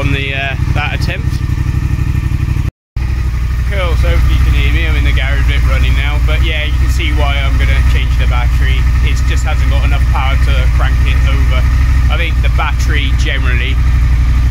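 A Triumph Speed Twin motorcycle engine catches after a weak battery struggles to start it, then settles into a loud, steady idle that runs close and continuous while someone talks over it.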